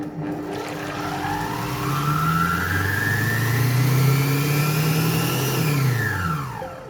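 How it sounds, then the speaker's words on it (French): A kitchen food processor mixes pastry cream at speed 8 for about six seconds, its motor whining up in pitch, holding loud and near, then winding down at the end. "Je le programme pendant 6 secondes à vitesse 8 pour le mixer"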